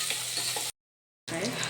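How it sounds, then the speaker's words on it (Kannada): Onions frying and being stirred in a pan for a sprouted-bean curry, a moderate steady sizzle broken by a short silent gap. "ಇದನ್ನ ಇವಾಗ ಚೆನ್ನಾಗಿ ಫ್ರೈ ಮಾಡ್ಕೊಳ್ಬೇಕು."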